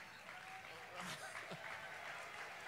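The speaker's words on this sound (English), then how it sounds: "Give yourselves a big round of applause." A crowd of students in Houston applauds at a college basketball Final Four community event, with a dense, continuous wash of clapping mixed with chatter and light laughter.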